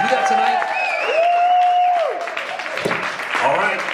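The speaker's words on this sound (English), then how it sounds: "We're going to need to hear a bunch of clapping coming in and out of the commercial breaks." A studio audience applauds and cheers, broad clapping swelling throughout under a loud voice that rises over the crowd noise.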